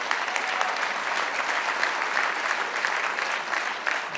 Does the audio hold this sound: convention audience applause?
yes